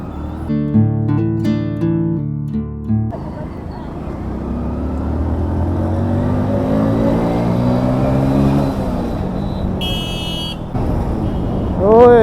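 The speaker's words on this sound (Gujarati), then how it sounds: "ટ્રાફિક જામ થઈ ગઈ" Traffic jam on a highway road trip by motorbike, with car horns honking over steady engine and road noise, a sustained horn blaring in the middle and a short high beep near the end, voices talking in between.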